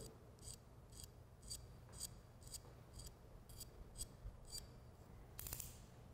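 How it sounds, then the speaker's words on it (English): A cutter lightly scraping fuzz from a feather quill while a brush is prepared gives soft, repeated rasping strokes, about ten short scrapes in a steady rhythm, faint and close, with no talking. "you can take the cutter and gently, just very gently, just scrape off any fuzz that's around the quill"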